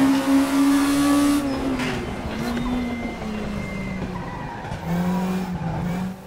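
A Volkswagen Scirocco Group 2 race car brakes hard in the RaceRoom racing game. Its engine note steps down through the gears while the tyres squeal and scrub, loud and close.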